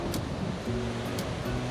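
Continuous broadband rush of a waterfall swollen by heavy rain near an Oregon RV park, steady and fairly soft, with a faint low tonal hum running underneath.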